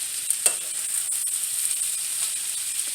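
Onions and garlic sizzle in a pan with a steady bright hiss, broken by a few soft stirring scrapes and crackles.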